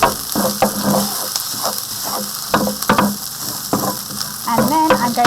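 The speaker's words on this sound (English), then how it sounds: "now I'm going to add my curry paste, and I'm going to mix that" Green curry paste sizzles and fries in a hot pan while being stirred, with scraping spoon strokes and crackling spits over a steady frying hiss, close and clear with no talking.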